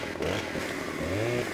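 A Stihl chainsaw in Farming Simulator 15, its engine revving and dropping back in a raspy, wavering drone that rises briefly and settles, heard up close with no voices.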